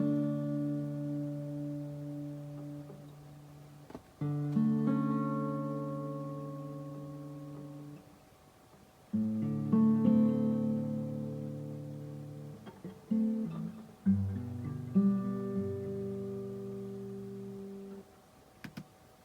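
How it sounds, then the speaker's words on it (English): A quiet background guitar part played alone, plucked notes and chords in separate phrases with short gaps between them, soft and close. "I'll show you what this guitar sounds like"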